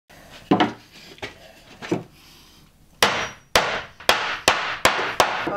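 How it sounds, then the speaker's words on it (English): Finish-nailed trim being popped off during a luxury vinyl floor install in a converted school bus, heard as a few scraping, prying thumps followed by a rapid run of sharp wooden knocks and clacks, close and fairly loud. "That was just on with finish nails, so you just have to pop it off like that."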